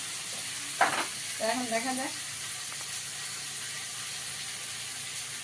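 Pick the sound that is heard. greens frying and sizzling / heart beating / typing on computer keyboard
greens frying and sizzling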